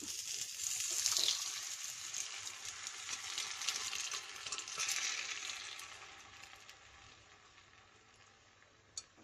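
Beef tripe (botti) for Kerala-style botti varattiyathu hits a hot pan and sizzles with a loud, bright hiss that slowly fades. A small clink of stirring comes near the end, with no talk.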